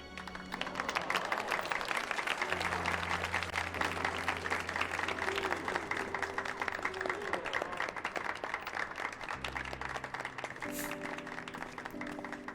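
Steady applause from a Final Fantasy XIV game crowd, dense clapping throughout, with game-style music tones underneath.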